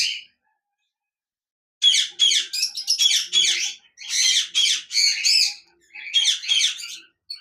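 A cockatiel in a breeding box gives a run of loud, harsh squawks and chirps close by. After a brief opening call and a silent pause, it calls repeatedly in short clustered bursts.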